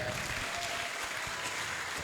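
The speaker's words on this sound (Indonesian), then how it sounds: "Tepuk tangan dong ya" A room of listeners applauds at a motivational talk for prospective Al-Azhar students, a dense steady wash of clapping with no break across the short stretch.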